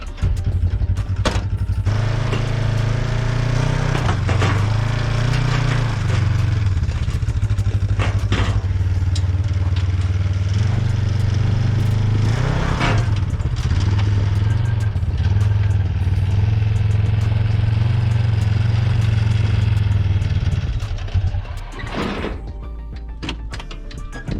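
A UTV engine running while mounted on a rack on top of a car, a loud, steady low drone with clattery mechanical bursts for about twenty seconds, then cutting out abruptly into near quiet.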